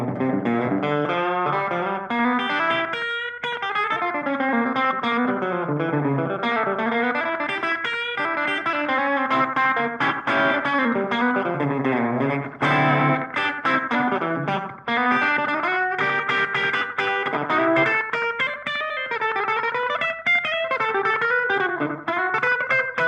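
Electric guitar riff on a Gretsch Brian Setzer Black Phoenix, bridge pickup through a Supro amp with light echo, rockabilly-style picked lines played loud and continuous with a slightly driven, reverberant tone.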